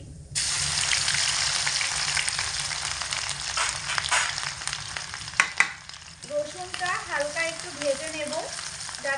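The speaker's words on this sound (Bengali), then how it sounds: "গরম তেলের মধ্যে ফোড়নে দিয়ে দেব এক চিমটে কালো জিরে আর একটা গোটা শুকনো লঙ্কা" Black cumin, a whole dried chili and lightly crushed garlic hit hot oil and set off a loud, continuous sizzle, which grows more crackly toward the end with some faint tonal sounds mixed in.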